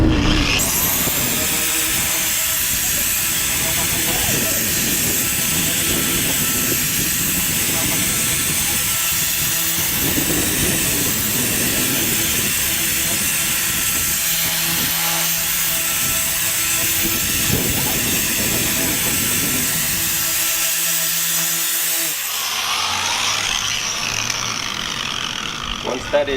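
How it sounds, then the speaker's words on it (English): A car polishing buffer fitted with a less abrasive polishing pad runs with a steady mechanical whine and hum for a long stretch, close and constant, then winds down near the end. "Dab it, smear it, and start your buffer."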